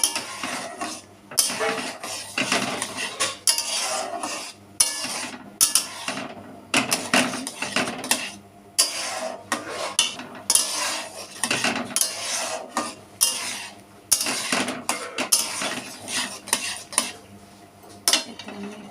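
Repeated scraping and clinking of a utensil against a metal pot, in bursts with short pauses, close by and fairly loud.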